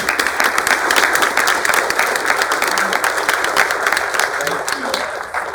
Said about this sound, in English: if you'd just stand and accept a round of applause from all of us